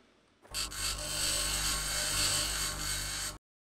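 Circular saw cutting through scrap in the Mars colony game Occupy Mars, a loud, steady grinding whir that starts abruptly, holds for about three seconds and cuts off cleanly, with no talk over it.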